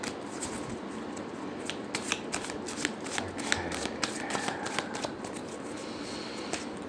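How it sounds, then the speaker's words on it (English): A deck of cards being shuffled for a card reading, with repeated crisp riffling bursts and snaps near and fairly quiet over a steady background hiss. "just shuffling some cards."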